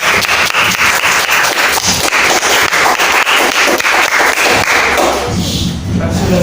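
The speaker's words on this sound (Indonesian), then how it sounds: "Beri tepuk tangan yang meriah" A classroom gives a presenter a round of applause, a dense burst of many hands clapping close and loud for about five seconds before fading into room noise.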